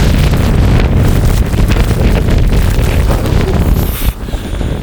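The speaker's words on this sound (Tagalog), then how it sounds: "Mahangin pa siya, Dinig nyo. Sobrang hangin." Strong wind roars steadily during a heavy snowfall in Denmark, a loud buffeting rush that hits the microphone hard throughout, with brief gusty surges and no voices.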